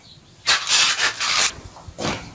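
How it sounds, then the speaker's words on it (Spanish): Several short, loud rasping strokes of sandpaper scrubbing a pipe up close, in uneven bursts separated by brief pauses. "Ya nos enseñaron a lijar esto."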